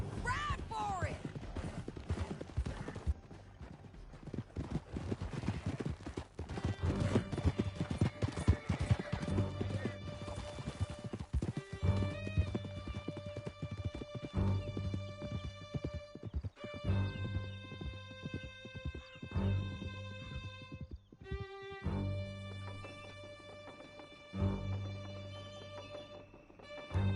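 Horses galloping in Red Dead Redemption 2, rapid clip-clop hoofbeats with whinnies as riders flee through a canyon, loud and continuous with music and voices underneath.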